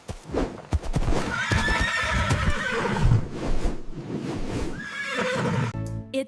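A horse whinnies loudly and shrilly in repeated bursts, with hoof clip-clops and snorts in between.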